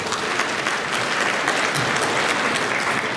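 Audience at a charity gala in Toronto clapping after a song, a full, even burst of applause that holds steady and loud for a few seconds with no speech over it.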